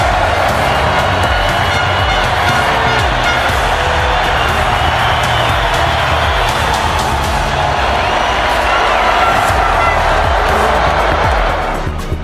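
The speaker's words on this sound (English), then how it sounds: "Stars of the day enjoying a round of applause from the team and fans." A dense, continuous roar of crowd cheering and clapping in the MotoGP 20 video game on PS4 fills the whole stretch, loud and steady before fading slightly at the end.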